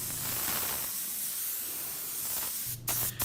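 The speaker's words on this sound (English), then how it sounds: "you can easily buy the lacquer in the spray cans" Lacquer sprayed from an aerosol spray can, a steady close hiss lasting nearly three seconds, followed by a couple of short bursts near the end.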